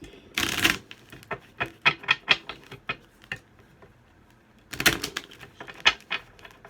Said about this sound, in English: I love these cards, but they're so hard to shuffle.